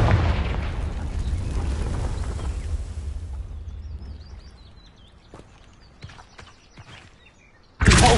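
A Confringo fire spell blasts in the video game Hogwarts Legacy with a loud, booming explosive burst that rumbles and fades over several seconds, followed by small scattered game effects and a sudden loud noise at the end.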